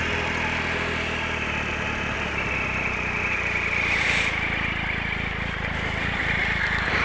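A Triumph Tiger Explorer motorcycle engine idles steadily at close range, a constant low rumbling drone with no talking over it.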